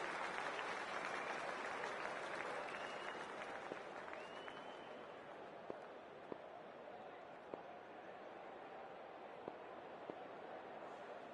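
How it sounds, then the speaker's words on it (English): Crowd at a cricket ground in the Cricket 24 video game, sustained applause and cheering that fades slightly over time, with a few sharp claps and whistles poking through. "We're about to get underway and already the crowd is up and about."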